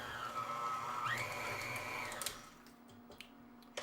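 Electric mixer whirring through cinnamon swirl quick bread batter in a bowl, a steady close motor whine that shifts pitch partway through and then cuts off, leaving faint kitchen clatter.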